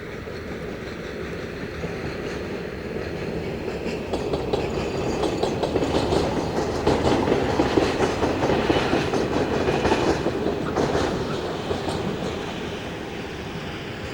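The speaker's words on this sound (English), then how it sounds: "Running 2 hours late is the Southampton to Ripple Lane Freightliner." A Freightliner freight train from Southampton to Ripple Lane rolls past on the railway, a continuous rumbling roar with rhythmic clickety-clack of wheels over rail joints, swelling louder midway as the wagons pass close, then easing slightly.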